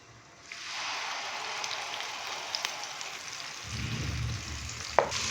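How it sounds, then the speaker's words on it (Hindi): Onion paste sizzles steadily in a hot pan for a dhaba-style chicken curry, a continuous frying hiss with a brief stir clink near the end and no talking. "यहाँ पे हम प्याज को फ्राई कर लेंगे तकरीबन 4 से 5 मिनट के लिए"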